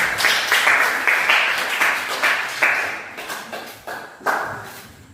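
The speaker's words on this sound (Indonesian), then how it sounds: "Oke, tepuk tangan dulu untuk kelompok 3." Classroom clapping rises in short waves, students applauding a presenting group together for several seconds before tapering into a few final claps.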